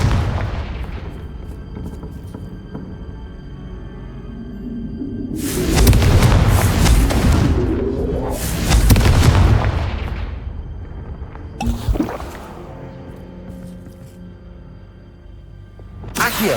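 Confringo blasting-curse explosions in the Hogwarts Legacy video game: two loud, booming fiery blasts a few seconds apart, each with a long rumbling tail, followed by a sharper crack, over a low ambient game bed.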